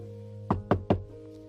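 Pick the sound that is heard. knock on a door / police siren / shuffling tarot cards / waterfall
knock on a door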